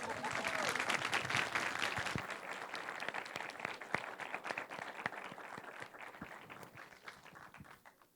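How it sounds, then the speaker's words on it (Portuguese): An audience at a film screening and debate applauds, a dense burst of clapping that is fairly distant and slowly thins and fades over several seconds. "Então, palmas para as duas."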